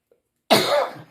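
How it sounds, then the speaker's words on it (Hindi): A single harsh cough bursts out after a moment of silence, close and loud, trailing off within about half a second. "ठंड से इतनी खांसी हो गई"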